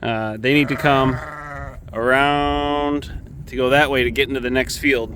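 Sheep being worked around a corner into the next field bleat repeatedly and loudly at close range while someone talks over them.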